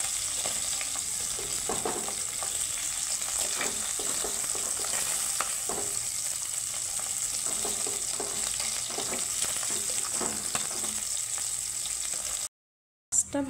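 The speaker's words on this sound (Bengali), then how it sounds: "মাছটা ভাজা হয়ে গেছে" Papda fish sizzling in hot oil, a loud steady frying hiss with frequent crackles and occasional stirring or turning scrapes, lasting about twelve seconds before a brief silent gap, with no talking.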